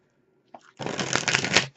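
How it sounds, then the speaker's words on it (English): Tarot cards being shuffled at a reading, a faint tap followed by a dense, close riffling rush lasting about a second before stopping. "I'm just going to shuffle and we'll just get right into the reading."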